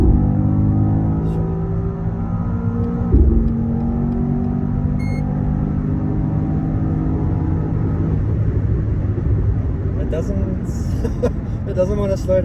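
BMW XM twin-turbo V8 hybrid with an M Sport exhaust, driving: a steady low engine drone with a brief surge near the start, running under continuous talk throughout.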